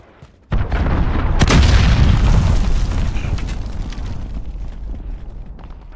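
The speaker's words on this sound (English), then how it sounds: "Allied cruise missile launched." A cruise missile strike in the Modern Warfare beta lands as a sudden heavy boom, followed by a long rumbling roar of explosions that slowly fades over several seconds.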